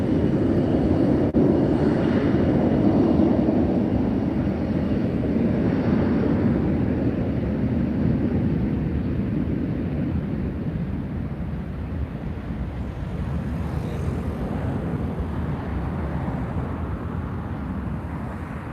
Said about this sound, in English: See if we can get a good view of its takeoff, soaring into the clouds.